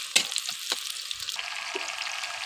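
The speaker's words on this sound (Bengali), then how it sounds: "পেঁয়াজ কুচি দিয়ে এভাবে নাড়াচাড়া করে নেব।" Chopped onions sizzle in hot oil with a bay leaf while being stirred, a crackling fry with a few sharp scrapes near the start, steady and close for a couple of seconds.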